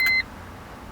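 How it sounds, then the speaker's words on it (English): Short electronic beeps from a 2000 Honda Civic EX as it is switched on, a bright tonal chirp lasting a fraction of a second, then a quiet cabin. "Turn on the car. We got beeps."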